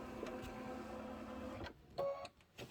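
Home embroidery and quilting machine running an IQ Designer stitch pattern on a candy corn quilt block, a steady mechanical whir with a rapid needle rhythm for about a second and a half, then stopping amid a few soft handling clicks.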